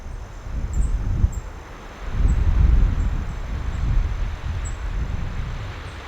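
Strong gusts of wind roar through forest trees on an exposed hill before an approaching storm, swelling and easing in waves with heavy low rumble on the microphone.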